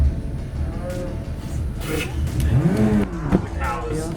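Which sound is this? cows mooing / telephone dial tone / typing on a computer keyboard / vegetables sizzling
cows mooing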